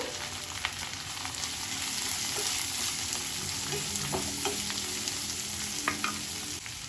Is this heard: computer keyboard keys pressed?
no